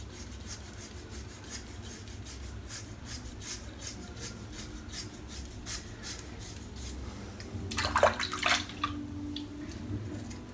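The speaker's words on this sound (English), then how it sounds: "that is a BBS head shave" A razor scrapes across a scalp during a head shave, giving a steady rasping rub with repeated short strokes, close and moderately loud, then a louder burst of scraping near the end.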